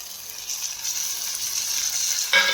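Cherry tomatoes and finely chopped tomatoes go into a hot pan for a spicy besan dish and sizzle in a steady hiss, with a brighter burst of frying near the end.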